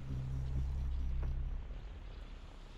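Helicopters flying in the strategy game Line War, a low rotor thrum and engine drone that holds steady, then fades and thins out over the last second.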